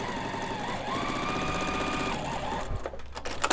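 A sewing machine stitches pieces of a Christmas tree quilt block together in a fast, steady whirring run that stops after a few seconds, followed by a few handling knocks and no talking.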